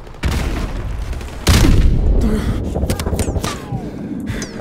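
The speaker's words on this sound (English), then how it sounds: "There's a grenade!" Grenade blast in Modern Warfare Remastered: a sudden heavy boom about a third of the way in rises over an ongoing din of gunfire and battle noise, with rumble lingering after it.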